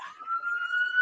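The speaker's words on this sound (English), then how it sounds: "Sorry about the sirens, but you know where I live at." A police siren wails steadily, its tone rising slightly over the short stretch, clear and fairly close with no talking.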